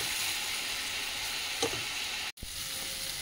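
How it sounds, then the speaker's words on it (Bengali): Papaya, potato and pumpkin pieces fry together in a pan, giving a steady loud sizzle with faint stirring scrapes and one brief break in the sound. "এই তো পেঁপে আলু কুমড়ো এই একসঙ্গে দিয়ে নাড়াচাড়া করে"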